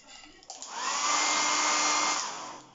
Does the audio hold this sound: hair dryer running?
yes